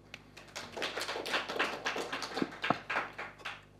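A small audience gives a round of applause during a talk on learning styles, uneven scattered hand claps that are fairly close and moderately loud, swelling briefly and then thinning out over a few seconds.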